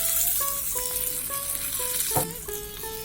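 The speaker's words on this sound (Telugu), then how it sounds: "తయారు చేసుకున్న పోపుని ఈ పచ్చి పులుసులో వేస్తున్నానండి." Hot tempering is poured into pachi pulusu, raw tamarind soup, giving a loud close sizzle with rattling spoon or vessel clinks and bright tonal squeals, and no speech.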